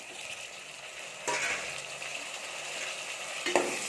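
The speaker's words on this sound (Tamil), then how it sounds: "தக்காளி சேர்த்து நல்லா வதக்கிக்கலாம்" Tomatoes sautéing in a pan with coriander and mint for a prawn biryani, a steady close sizzle with faint stirring that swells sharply partway through and gives one brief scrape near the end.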